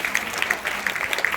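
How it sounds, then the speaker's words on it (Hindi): An audience at a crown diamond business event in Thane claps in scattered, uneven bursts, with sharp individual hand claps standing out over a low murmur of crowd noise. "आपके लिए जोरदार ताली होनी चाहिए"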